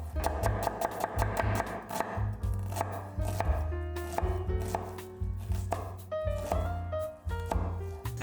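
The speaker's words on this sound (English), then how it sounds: "finely chop the onions" Knife chopping halved onions on a board for a sandwich, a steady run of quick taps over a continuous backing of music.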